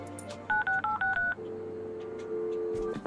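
A telephone is dialed in the Leisure Suit Larry: Wet Dreams Dry Twice video game, with a quick run of loud, close touch-tone beeps followed by a steady ringing tone, and no one speaks.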